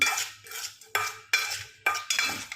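Spoon and utensils clatter against a bowl while tossing and mixing a Thai cucumber salad, five or six sharp scraping strokes in an uneven rhythm, close and clear with no talking.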